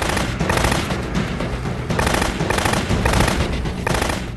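Rapid automatic gunfire from the iPad shooter game Extraction Project Outbreak, a steady dense rattle of shots lasting throughout at a loud, even level with no voices.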